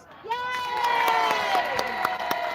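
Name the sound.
crowd booing at a rally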